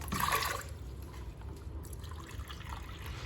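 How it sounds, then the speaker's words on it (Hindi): Water poured into a pressure cooker holding washed moong and masoor lentils, a steady splashing trickle that is strongest in the first half second and then settles into a softer, continuous fill. "मैं 3 कप पानी इसमें शामिल कर रहा हूँ"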